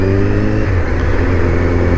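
A Kawasaki Z1000 motorcycle engine hums steadily and loudly while being ridden through a 30 mph zone, a close, even mid-range drone with no talk over it.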